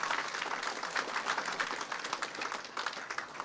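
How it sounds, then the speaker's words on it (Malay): Audience at a Royal Military College annual parade gives a thunderous round of applause for former cadets, dense continuous clapping that stays loud and even throughout. "Beri tepukan gemuruh buat mereka."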